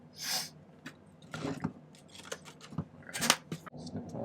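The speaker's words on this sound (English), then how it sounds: "cut off the excess." Scissors snip off excess silver sheet while a setting for a quartz crystal is being made, giving a series of close, crisp cuts and small metallic clicks at an uneven pace.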